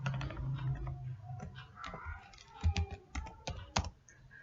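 Keys clatter on a computer keyboard as an SQL query is typed, an irregular run of close, sharp clicks with a few louder strokes amid faint background noise.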